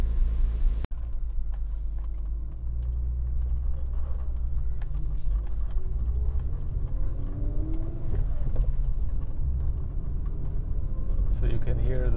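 A BMW E36 M3 driving on rough roads, heard from inside as a steady low engine rumble and road noise, with someone talking over it.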